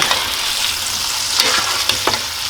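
Steak fries in a pan while being basted, a loud, dense sizzle with scattered sharp spits and crackles as hot juices are spooned over the meat; no talking.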